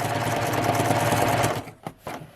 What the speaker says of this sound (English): Allowing the serger to do all the work